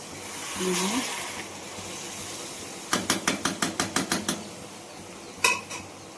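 Ghugni being stirred slowly in a kadai: a quick run of about ten metallic scrapes and clinks of a spoon against the pan, a softer clink after a pause, over a low background hum.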